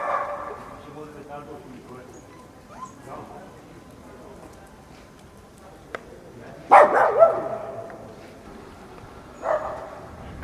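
Dogs bark excitedly at each other in a Burano street, a loud burst of yapping partway through and another shorter burst near the end, heard over ongoing talk and street ambience.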